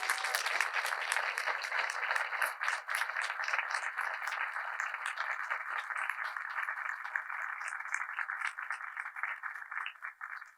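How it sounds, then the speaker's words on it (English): Audience at a school board meeting breaks into sustained applause, a steady dense patter of many hands clapping at moderate distance for about ten seconds, thinning slightly at the end. "So I think that deserves a round of applause"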